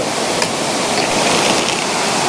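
A jungle waterfall pours in a constant, dense hiss-like roar, close and unbroken from start to finish with no other sound standing out.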